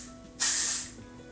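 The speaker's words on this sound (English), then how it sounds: "So I have my Way Volumizing Hairspray." A single burst of volumizing aerosol hairspray hisses for about half a second, close and fairly loud, against a quiet background.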